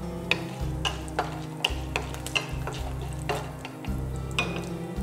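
Urad dal and garlic fry in hot oil for chutney, a close soft sizzle punctuated by repeated scraping stirs and light taps of a spoon against the pan at an irregular rhythm.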